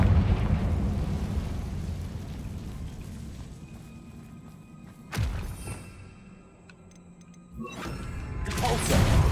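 Confringo blasting spell explosions in Hogwarts Legacy: a sharp blast cracks out midway, and a second booming burst swells near the end over a rumbling game background.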